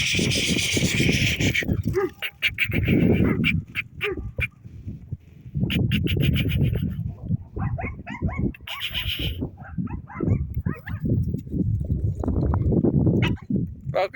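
Shepherd dogs bark near a herd, with repeated close, loud barks and yips in bursts alongside whimpers, and people talking over and between them.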